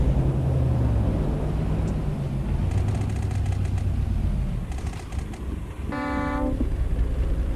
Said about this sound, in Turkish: Havalı kornamız da çok güzelmiş arkadaşlar bakın.